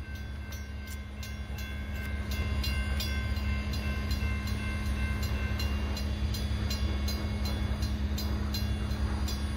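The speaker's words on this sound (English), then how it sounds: "We got a Norfolk Southern freight train coming." A Norfolk Southern freight train rumbles past with a heavy low drone and rhythmic metallic clatter, growing louder after the first couple of seconds and staying steady.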